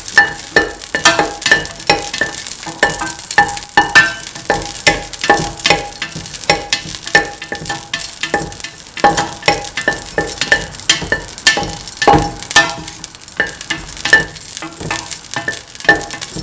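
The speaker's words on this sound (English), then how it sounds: "Saute until the raisins become soft." Raisins sautéing in a pan for a sweet custard vermicelli dish, with a steady sizzle and rhythmic scraping stirs repeating throughout, loud and close.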